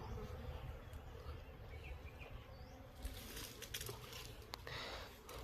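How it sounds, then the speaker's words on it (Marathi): Honeybees swarm around hive boxes in Manghar, India's honey village, giving a steady, close buzzing hum over a low outdoor rumble, with brief louder passes near the end. "ते सगळं त्या माश्या मधमाशा करतात"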